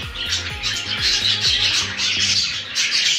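African lovebirds squawking in bursts, sharp harsh calls repeating in quick uneven rhythm, close and loud over a low stepped hum in the background.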